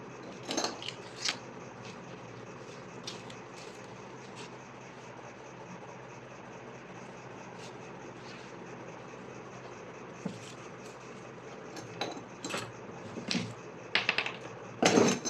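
Scissors cut through lining cloth for a sleeve, giving quiet, intermittent snips and clicks over a soft steady background, with denser clusters of cuts near the end.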